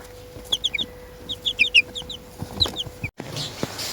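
High chirps from days-old chicks and soft clucking in quick clusters, close up, against a low steady hum.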